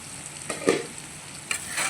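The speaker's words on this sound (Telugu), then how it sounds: "కొంచెం పసుపు ఒకసారి తిప్పుకొని సిమ్లో అలా వదిలేయండి" Brinjal and tomato curry with turmeric simmers quietly in a pan, a soft low sizzle broken by a few brief stirring clinks and scrapes.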